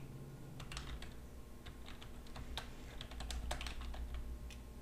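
A search being typed on a computer keyboard, a quick run of light, irregular key clicks heard close and quiet over a low steady hum.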